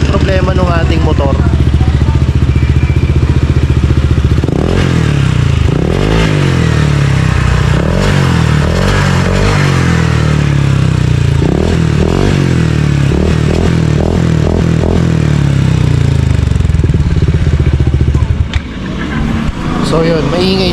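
A loud, rough motorcycle engine with a mechanical fault idles and revs with a metallic rattling clatter throughout, close by, while a voice talks over it at times.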